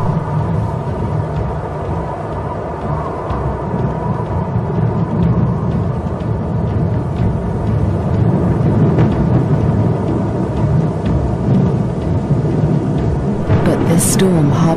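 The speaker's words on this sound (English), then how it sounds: "A storm approaches." Deep, rolling rumble of distant thunder under a steady wash of wind and rain, sustained and building slightly toward the end.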